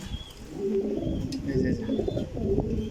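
Several racing pigeons sitting on eggs coo softly and repeatedly nearby, low throaty calls overlapping, with a faint chirp and some background murmur.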